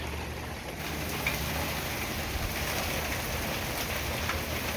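Steady rain falls in a continuous even hiss, a close, dense patter with no talking.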